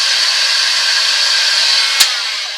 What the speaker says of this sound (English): I'm going to help the sealer go off just by giving it a little blast with the heat gun